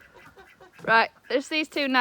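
A duck being chased and caught indoors gives loud honking quacks in the second half, bursts under and after a voice.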